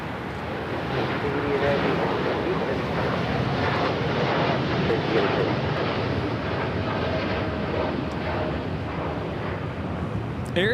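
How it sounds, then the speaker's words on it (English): A Boeing 787-9 Dreamliner of Air Tahiti Nui takes off from Los Angeles airport, a loud, steady broadband jet roar filling the whole stretch with little change in level. "Air Tahiti Nui Flight 8 taking off to Paris on the 787-9 Dreamliner."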